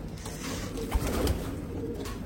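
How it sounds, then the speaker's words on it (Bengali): Pigeons coo softly nearby in a calm coop, a couple of low throaty coos over faint background rustle. "কবুতরগুলো আর কি দেখতেই পাচ্ছেন, সবগুলো কবুতরই রিল্যাক্সে আছে"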